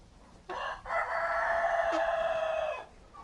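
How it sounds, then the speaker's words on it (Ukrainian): A naked neck rooster crows once, close and loud, a long drawn-out call with a short lead-in note, over quiet background. "Ось півник галашийка."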